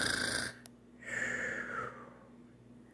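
A storyteller's voice imitates a small bunny snoring, giving two drawn-out breathy snores with a pause between them, close and fairly soft, with no other talk.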